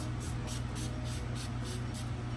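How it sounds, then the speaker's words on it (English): Urban Decay All Nighter setting spray is misted in quick, evenly spaced bursts, about eight short soft hissing puffs over a low steady background hum. "I go in with setting spray and I'm using the Urban Decay All Nighter."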